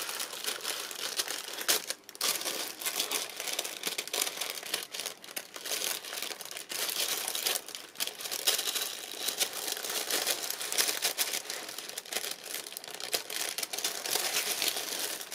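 Paper wrapping crumples and crinkles continuously while wedding appliques are being unwrapped, a close, fairly quiet rustling with frequent sharp crackles and a few brief pauses.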